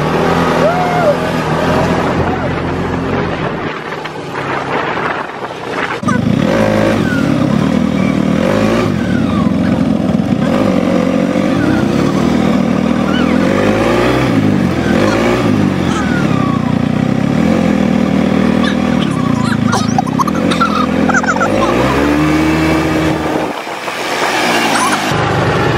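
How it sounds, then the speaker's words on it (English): An ATV four-wheeler engine revs hard and steadily while mudding on a Jamaican trail, loud and close, its pitch rising and falling with throttle changes and a brief dip before it surges again. "Doing ATV, so it's like mudding on the four-wheeler"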